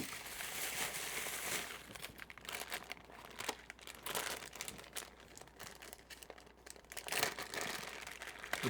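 A plastic package of small electronic parts for an RD6030 power supply kit being opened, with quiet, close crinkling and rustling in irregular bursts and no speech.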